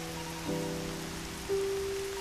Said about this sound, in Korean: 비가 오게 되면 그 빗소리가 백색 소음으로 가장 좋은 소리거든요